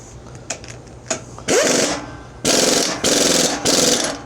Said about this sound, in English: We're gonna hit her with the impact.